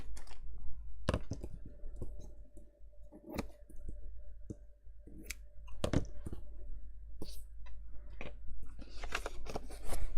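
Scissors trim organza ribbon on a crafting table, with a series of sharp, close snips and clicks scattered irregularly across a low background hum.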